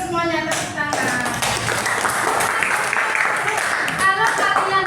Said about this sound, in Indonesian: Jawabannya betul semuanya, tepuk tangan.